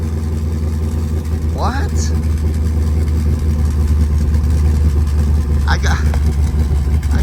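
A straight-piped, cammed Jeep SRT8 idles close by with a steady low drone and a quiet, spitting exhaust, while someone briefly speaks over it.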